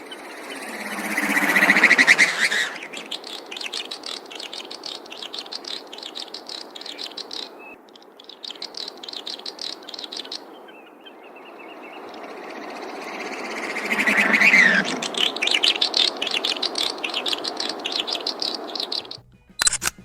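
A Swinhoe's snipe produces strange, loud rattling and buzzing calls in two main bursts near the start and end, with quieter stretches of similar sound between them and no one talking.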